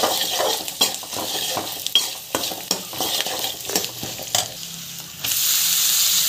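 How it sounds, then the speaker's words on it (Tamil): Turmeric powder sautéing in a hot pan, a steady sizzle with repeated scraping and stirring strokes of a spoon against the pan, close and fairly loud with no talking. "மஞ்சள் தூள் ஆட் பண்ணி நல்லா வதக்கிட்டுருக்கோம்"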